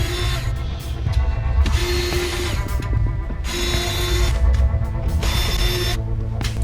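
PK screws being backed out during a car speaker install, heard as a loud, continuous whirring power-driver drone with shifting pitch and tool clatter, close up and with no talking.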